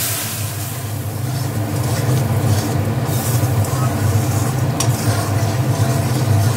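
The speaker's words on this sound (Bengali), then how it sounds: "একটু কষিয়ে নেবে। একটু জলও দিয়ে দিচ্ছে হালকা করে, যাতে মশলাগুলো পুড়ে না যায়।" Spices being sautéed in a pan with a splash of water, a loud, steady bubbling hiss with stirring noise and a low rumbling background, no talking.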